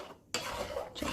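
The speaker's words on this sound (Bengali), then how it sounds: "ভালো করে নাড়ি।" A spoon scrapes and swirls through chushi payesh, a rice-dumpling milk pudding sweetened with jaggery, in a pot, a close, rasping stir that pauses briefly and then resumes.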